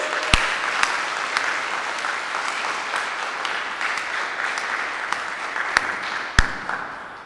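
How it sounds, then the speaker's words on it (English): Audience applause fills Brooklyn Borough Hall during a Pride Week kick-off and flag-raising ceremony, a steady wash of clapping from a moderate-sized crowd with a few sharp, close claps standing out. "how about a big round of applause for this?"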